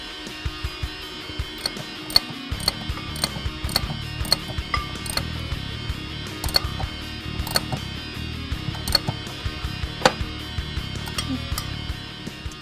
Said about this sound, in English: Install the retaining nut and then we'll tighten that down.